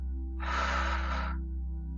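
A single deep breath drawn in slowly through the nose or mouth, soft and close, during a guided meditation over a faint steady hum.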